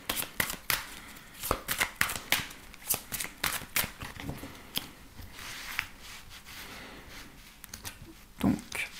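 Tarot cards being shuffled for a reading, a run of crisp riffling bursts and soft slaps that repeat irregularly, close and fairly quiet, with no talking.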